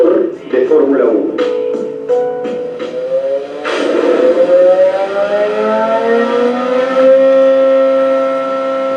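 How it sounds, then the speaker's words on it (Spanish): A Formula 1 engine blips through several sharp revs, then climbs in one long rising scream as it accelerates, loud and near. "Veamos un ejemplo de un motor de Fórmula 1."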